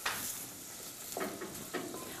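Meat sizzles in a pot with onion and garlic, a steady frying hiss with a few bursts of stirring, close and without talk.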